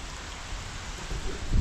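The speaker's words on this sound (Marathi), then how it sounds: "इतका जबरदस्त पाऊस झाला आता पण पाऊस चालली" Heavy rain pours steadily beside a parking area full of cars, a dense continuous hiss at constant loudness with no voices, and a deeper rumble swells briefly near the end.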